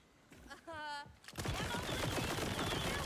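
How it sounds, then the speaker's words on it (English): A firework-shooting gun fires in Borderlands 4, with a dense crackling burst of rapid shots that starts after a brief tonal sound effect and continues steadily to the end. "This gun literally shoots fireworks."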